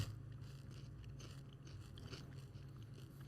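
Crunchy spicy chips with a chipotle dip being bitten and chewed, faint close crunching and crackling that runs steadily with no talk.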